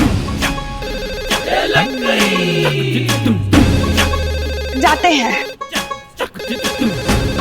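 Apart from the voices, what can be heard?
telephone ringing on a desk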